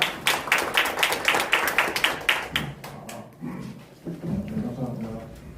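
An audience at a Korean policy forum claps to welcome a museum official as a discussant, with a burst of fairly close, loud clapping that tapers off into voices and shuffling.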